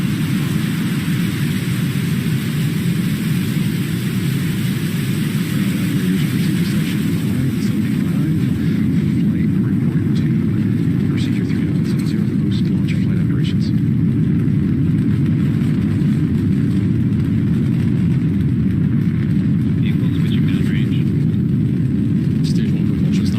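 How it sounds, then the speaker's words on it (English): A rocket ignites and lifts off during a launch, a loud, steady, broadband roar with heavy low rumble that holds for the whole stretch, under faint background voices. "Ignition. Liftoff."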